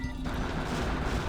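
Explosions in a Sonic video game: a dense, noisy burst of crackling blasts that fills the short moment, loud and close, with no talk.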